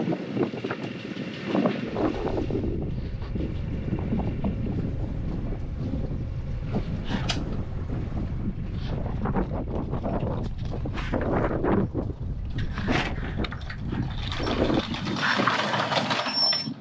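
Anchor being raised on a sailing catamaran anchored off a tropical island, with a steady mechanical rumble and rattle close by under strong wind noise, continuous throughout and louder toward the end.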